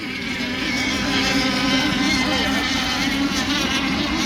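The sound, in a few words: RC nitro racing boat with M5 Performance Merlin engine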